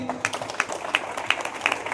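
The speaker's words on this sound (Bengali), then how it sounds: "আমরা জোরে হাততালি দিই" An audience claps along at a school football tournament as the match ball is brought in by remote-controlled vehicle, with a steady patter of hand claps and sharper bursts over a murmur of voices.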